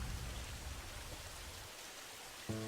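Steady rain hisses continuously with a broad wash of noise, heavier at first and then easing, with a brief tonal thump near the end.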